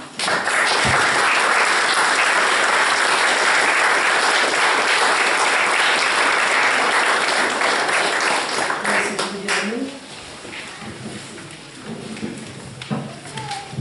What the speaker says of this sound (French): que nous pouvons, je pense, remercier en applaudissant